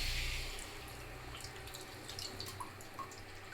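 Goat tripe being washed under a running kitchen tap, giving a steady close stream of splashing water with scattered drips, fairly loud at first and then settling into a continuous rush.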